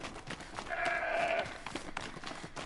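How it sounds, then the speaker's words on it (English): A goat in a video game, Horizon Zero Dawn: The Frozen Wilds, bleats once, a drawn-out wavering cry at moderate distance over a soft crackling background. "I'm hearing lots of goats."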